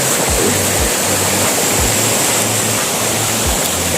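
Water pours down in a heavy, unbroken rush, the close Tat Mok waterfall in Phetchabun, Thailand, hissing and roaring without pause.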